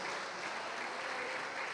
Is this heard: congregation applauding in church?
yes